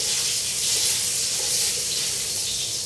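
Garlic sautés in a hot pan for pansit guisado, a steady hissing sizzle that stays close and even for a few seconds with no talk.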